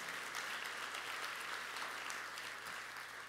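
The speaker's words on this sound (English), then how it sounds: "yeah, you can applaud for that." Steady applause from a large conference audience in a hall at an airport business diversity event, even and sustained with a low hum beneath.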